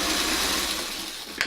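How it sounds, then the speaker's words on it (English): A sewing machine stitching quilt patches for a snowball nine-patch block, a steady close mechanical whir running without pause before a brief knock at the end, with no talk. "I'm going to sew these so that the dark goes in on itself"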